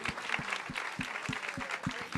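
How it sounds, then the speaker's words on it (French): Short burst of audience applause, steady clapping from a modest crowd at moderate volume. "Ouais, on peut les applaudir."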